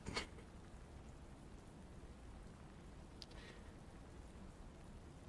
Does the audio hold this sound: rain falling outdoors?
yes